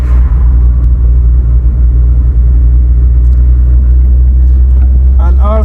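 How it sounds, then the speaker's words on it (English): A car rides over a bumpy rural road in Myersville, St. Elizabeth, Jamaica, giving a steady loud low rumble of engine and road noise throughout, with faint voices near the end. "Having some bumpy ride."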